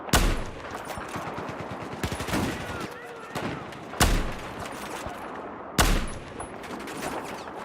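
Rapid automatic gunfire from Battlefield 4 in Gunmaster mode, bursts of shots with several sharp, loud cracks standing out, close and punchy, with a player's voice talking in between.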